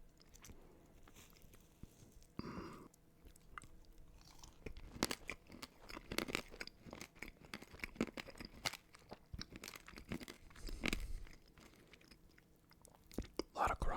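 Crunchy chewing of frosting-heavy birthday cake, close-up mouth sounds with irregular crunches and bites over several seconds, recorded intimately and quietly with no words spoken.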